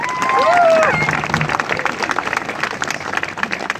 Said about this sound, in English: So could we give Richard and Greg a round of applause?